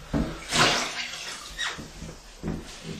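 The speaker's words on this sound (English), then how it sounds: "You take a wet sponge and push in there and wipe off the excess" Wet sponge pressed and wiped along a fresh caulk bead at a bathtub edge, giving several short damp swishes and squelchy wipes in close, quiet bursts with pauses between.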